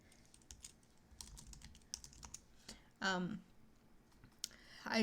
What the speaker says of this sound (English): Oh gosh, this keyboard is not my usual keyboard.